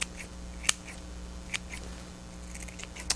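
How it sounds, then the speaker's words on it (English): A few crisp, quiet scissor snips thinning the fibers of a miniature model tree at irregular intervals, soft and close, over a faint steady hum. "take your scissors and thin some of the fibers in the areas you like"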